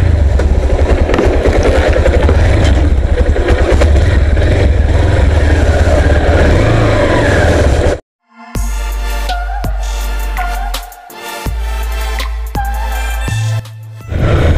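A motorcycle engine runs loud and steady at idle with a rough low rumble, then after a brief cut continues idling closer with a few short revs and dips, ahead of a ride from Mumbai to Shirdi.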